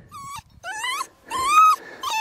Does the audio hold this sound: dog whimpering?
yes